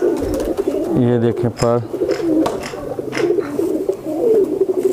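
Chhatri (fantail) pigeons coo in soft, low, rhythmic bursts close by, while someone talks over them almost throughout.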